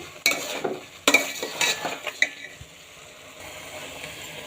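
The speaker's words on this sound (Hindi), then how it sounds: "अच्छी तरह से इसको भून लेंगे और चम्मच प्रॉपर चलाते रहेंगे ताकि नीचे ना लगे" A metal spoon stirs and scrapes grated carrot halwa as it roasts in a pan, with several distinct clinks and scraping strokes at an irregular pace, fairly quiet and close, then a soft settling sizzle.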